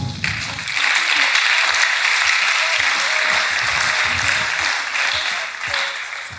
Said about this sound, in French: Est-ce qu'on peut encore acclamer pour les champions?